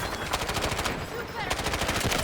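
A Chinese SMG fires in Delta Force in fast, continuous bursts that are loud and close. The gunfire runs rapidly throughout.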